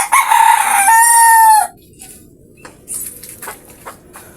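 Pet white roosters in a flying pen crow loudly and close by, one long drawn-out call ending abruptly, followed by a few faint clucks and scratchy rustles in the quieter pen.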